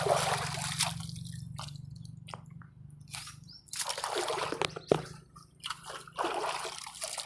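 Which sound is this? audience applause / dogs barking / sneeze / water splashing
water splashing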